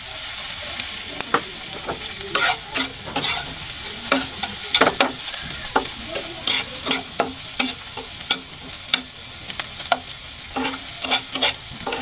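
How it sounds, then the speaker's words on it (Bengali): Green chilies sizzling in hot oil for a fish curry, with a spoon scraping and stirring the pan in frequent short strokes over a steady frying hiss, close and clear. "এই তো আমি এখন মরিচগুলো দিয়ে দিব।"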